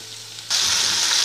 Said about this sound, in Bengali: একটু ভাজা ভাজা মতো হয়ে গেছে